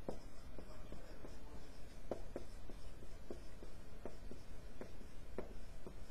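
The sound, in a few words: writing on paper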